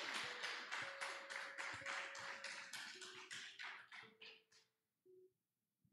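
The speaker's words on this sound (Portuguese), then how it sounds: "eu convido você agora a dar uma grande salva de palmas para a palavra de Deus" Church congregation clapping together at a worship service, a dense, steady burst of applause with faint sustained tones beneath, thinning out and fading to silence after about five seconds.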